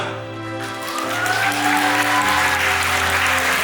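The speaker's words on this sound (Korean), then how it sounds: "여러분들 박수 부탁드리겠습니다." Wedding guests clapping at a ceremony in a convention hall, the applause building and holding steady over background music, loud and close.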